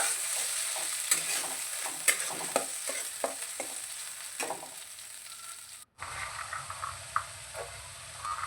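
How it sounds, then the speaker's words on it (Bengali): Fish ball mixture is stirred in a hot frying pan, a close sizzle broken by repeated scraping strokes of the spoon at an uneven rhythm, with a brief cut partway through. "একটু ভালো করে নাড়াচাড়া করে নিই।"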